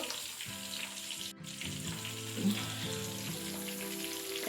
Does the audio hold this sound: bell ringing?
no